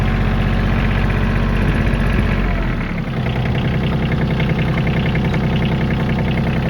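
Kioti CK27 compact tractor engine running steadily in third gear, a loud, even diesel chug with a brief dip in the middle and no talking.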